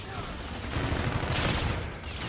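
Dense, rapid gunfire from the shooter game Call of Duty: Infinite Warfare fills the moment as a continuous loud burst, with a player's voice faintly mixed in.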